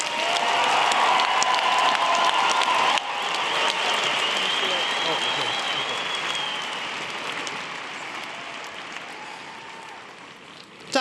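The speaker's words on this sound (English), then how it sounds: "We invite your applause for the graduates from the Department of Political Science." Sustained crowd applause at a BYU convocation for Political Science graduates, loud and steady at first, then gradually thinning and fading toward the end, with some cheering and voices mixed in.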